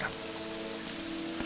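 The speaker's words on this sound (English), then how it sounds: "it is still raining" Steady rainfall in the video game Morrowind, a soft, even hiss of falling rain with faint patter, held at a constant low level beneath a quiet tonal hum, and nobody speaking.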